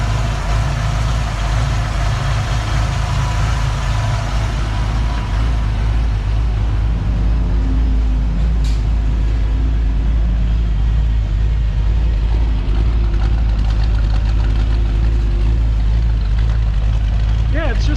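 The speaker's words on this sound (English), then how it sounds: "It sounds pretty good, like, though it does sound like a loopy cam" A 1959 Chevrolet El Camino engine idles with a lopey, cammed-up lope, a steady low rumble running the whole time at close range, with people talking over it.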